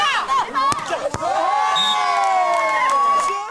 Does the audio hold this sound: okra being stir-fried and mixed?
no